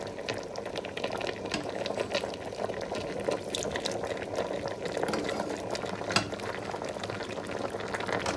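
Bitter leaf soup (onugbu) with palm kernel extract cooks in a pot, giving a steady bubbling, boiling wash that holds at an even level throughout, with no talking.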